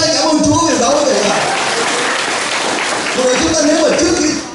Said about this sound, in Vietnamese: hãy vỗ tay cảm ơn Chúa vì đó quý vị ạ